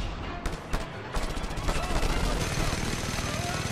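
Minigun fire in the video game Just Cause 2: dense, rapid gunfire crackling continuously at close range. It thickens into a steady, heavy barrage after the first second.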